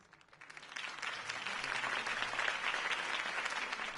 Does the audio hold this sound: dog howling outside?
no